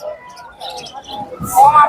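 Budgerigars chirping at the Tongi bird market, short high chirps and tweets close by, heard under a background of crowd babble and nearby talk in a brief snippet.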